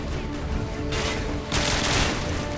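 Constant loud gunfire from the video game Call of Duty Modern Warfare 2 sounds as a dense, unbroken volley of shots that grows even heavier partway through, with no speech.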